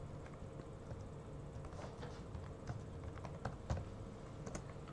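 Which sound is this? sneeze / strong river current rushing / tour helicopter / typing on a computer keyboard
typing on a computer keyboard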